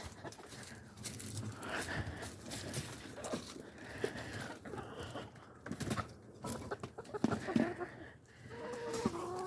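Chickens cluck and murmur nearby in a rain-soaked chicken run in a noisy outdoor scene, with scattered calls rising over a busy background.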